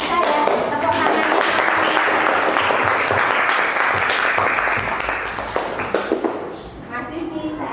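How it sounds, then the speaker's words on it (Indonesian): Sixth-grade schoolchildren in a classroom in Indonesia clap together in a loud, sustained burst that tapers off, followed by scattered taps and voices talking near the end. "Tepuk tangannya."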